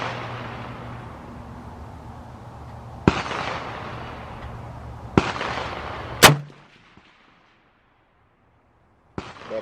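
Single rifle shots at an outdoor shooting range with steel targets, a PSL or RPK, each a loud sharp crack with a ringing tail, spaced a couple of seconds apart over a low idling hum, then quiet before one final shot.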